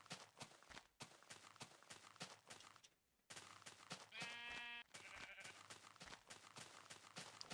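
Sheep bleat in the video game Minecraft, a few short wavering calls near the middle over steady game footsteps and ambient clicks.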